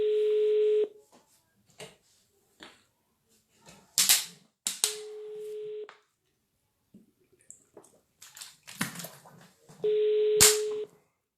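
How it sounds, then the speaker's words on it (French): A telephone rings on a call during a live stream: three separate ringing tones about five seconds apart, with scattered clicks and knocks between them. "pourquoi vous mettez toujours 12 sonneries à répondre?"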